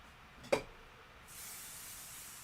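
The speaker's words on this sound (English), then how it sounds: "Now I'm going to spray my background fabric." A spray can of fabric adhesive is sprayed onto quilting background fabric. A brief close puff comes first, then after a short pause a longer, steady, faint hiss.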